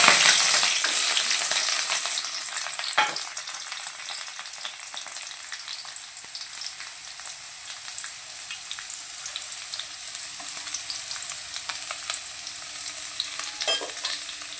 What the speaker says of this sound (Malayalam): കറിവേപ്പിൻ്റെ ഇലയും ചെറിയുള്ളിയും കൂടി നമുക്ക് മൂപ്പിക്കാം